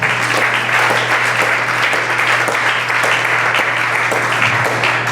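An audience at a conference in Kinshasa applauds loudly and steadily, a dense, continuous wash of clapping from many hands that holds at full strength throughout.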